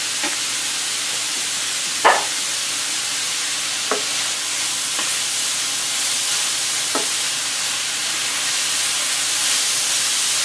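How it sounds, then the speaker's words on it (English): Onions, garlic, carrots and celery sauté in a pot as the base for a fresh marinara sauce, giving a steady close sizzle and hiss with a few sharp clicks of stirring, without any voices. "we're gonna saute this until it's the onions start to get translucent, the garlic will start to get a little translucent"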